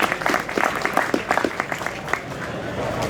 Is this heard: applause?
yes